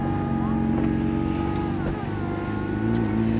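A Ferrari 488 Spider drives with a steady, loud engine drone and low rumbling hum from inside the car, holding a fairly constant pitch throughout, with a voice speaking over it.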